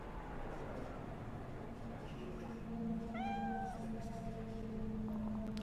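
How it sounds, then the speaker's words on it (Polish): A cat meows in the video game Cyberpunk 2077, giving one drawn-out, wavering meow partway through over a steady hum of in-game ambience and background music. "To są te brzydkie koty z Egiptu"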